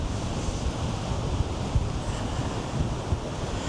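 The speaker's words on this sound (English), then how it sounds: "These big waves coming in." Large ocean waves roll in against Bournemouth Pier, a continuous loud surf roar with low thumping surges, mixed with heavy wind buffeting the microphone and no voices.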